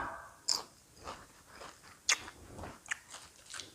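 Crunchy fried pork wonton, dipped in instant noodle soup, bitten and chewed close up, with a few sharp crisp crunches followed by softer chewing, quiet and without talk.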